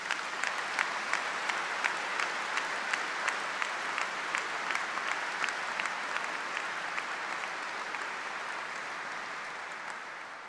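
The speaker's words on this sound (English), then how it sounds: "Let's give them a round of applause." Sustained applause in a cathedral for the organist and staff at a university graduation ceremony, a dense wash of clapping from a large audience lasting about ten seconds and fading slightly at the end.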